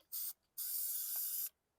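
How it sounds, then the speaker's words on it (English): An aerosol can sprays paint onto a junk lawn mower with its tank removed: a short hissing burst, a brief pause, then a longer steady spray of about a second, close and clear with no voices. "spray paint."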